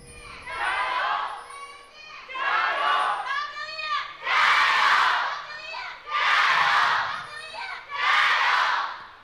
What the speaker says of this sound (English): The fans are cheering in the arena, and WE is ready to answer.